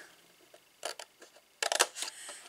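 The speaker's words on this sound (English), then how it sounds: "And we're just going to snip up the centre." Scissors cut up the centre of a cardboard perfume gift box, giving several short crisp snips and crunches in two quick clusters, close and clear with no talking.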